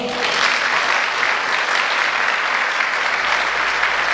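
Audience at a Turkish folk music concert applauds a wind instrument player as he is introduced, a loud, dense, continuous burst of clapping from a large crowd.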